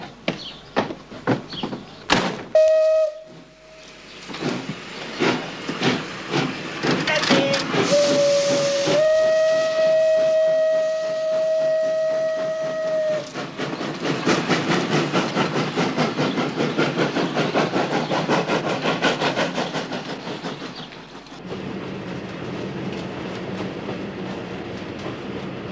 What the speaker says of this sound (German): Schnell, der Zug fährt ab!